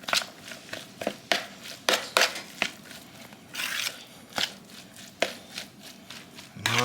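Brisket and vegetables being mixed by hand for cheesesteak egg rolls, giving irregular close squishing, slapping and crinkling sounds in short bursts with no talking.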